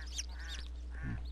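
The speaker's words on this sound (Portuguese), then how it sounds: "Passarinho." Short bird calls in the DreadOut horror video game, a few quick squawking chirps over a constant low hum, fairly faint.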